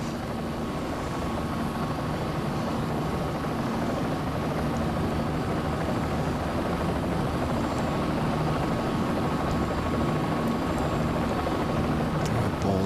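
Engine and rotor noise of a Bell 206 Jet Ranger helicopter in the CowanSim flight simulator game, a steady, loud, unbroken drone with a constant hum for the whole stretch.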